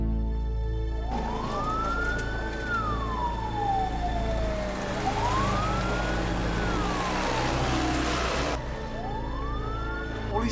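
A police car siren wails in long rising and falling sweeps, loud and close over a low engine hum, with no talk during it.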